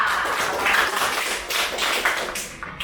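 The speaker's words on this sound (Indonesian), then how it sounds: "Tepuk tangan dong untuk Cinta." Classroom applause for a student in a sixth-grade lesson, a dense wash of small hands clapping steadily and fairly close, with no talk over it.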